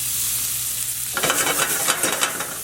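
Peppers and onions hit hot bacon grease in a pan partway through, the quiet hum giving way to a loud, close, crackling sizzle with stirring scrapes and no talk.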